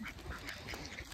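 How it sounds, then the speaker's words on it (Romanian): A duck quacks a few times nearby in a park, short nasal calls over soft outdoor background, with no talk during the calls. "Îți place că a venit rața la tine?"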